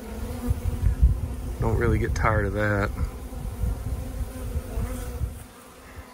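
Honey bees buzz loudly and steadily at a close-up hive, a dense hum that runs throughout while a person speaks briefly in the middle.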